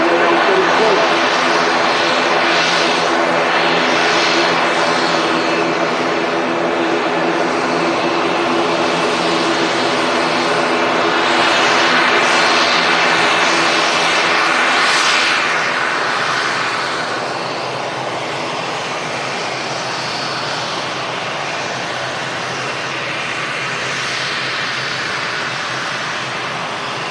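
An ATR 72 turboprop airliner at Manchester Airport runs its engines in a loud, sustained drone with steady propeller tones, easing slightly in the latter part, with a voice talking over it.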